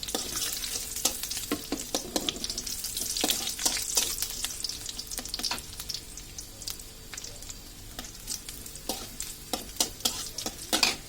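Minced garlic fries in a pan with a steady sizzle and repeated sharp scraping clicks of a spatula stirring, close and fairly quiet, no talking.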